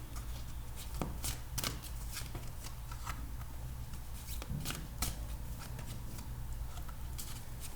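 Tarot cards shuffled and laid out, close and soft: repeated riffling flutters and sharp slaps of cards set down, over a low steady background hum without speech.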